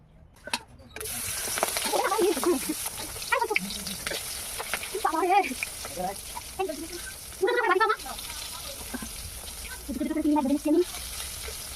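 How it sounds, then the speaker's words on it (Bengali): Prawns frying in hot oil in a heated wok during village-style cooking of a prawn malai curry. An irregular close sizzle and spatter comes with repeated bursts of stirring and scraping, with some voice underneath. "এখন তেল দিয়ে দেবো চিংড়ি মাছ ভাজার জন্য"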